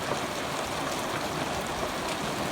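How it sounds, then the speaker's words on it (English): Light summer rain falling steadily on a farm with house, barn and fences, a continuous even hiss with no gaps or voices. "at least we got some rain, so that's good"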